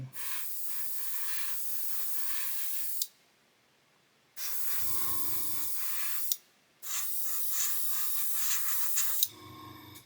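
Airbrush spraying paint onto the engine of a Pocher 1/8 scale Lamborghini Aventador LP-700-4 model, a steady close hiss in three long bursts separated by brief silences, with no talk.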